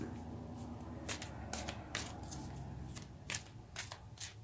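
Tarot cards are shuffled by hand close by, making quiet riffling and sharp flicking bursts at an uneven rhythm with short pauses in between.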